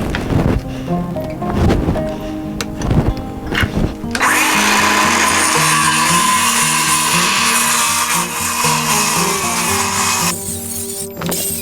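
A power tool cuts up pallet wood. A few heavy knocks come first, then a loud, continuous grinding whine runs for several seconds before winding down near the end.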